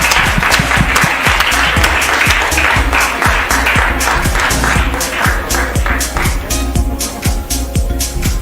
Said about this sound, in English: Ladies and gentlemen, a huge round of applause for Mr. Cacao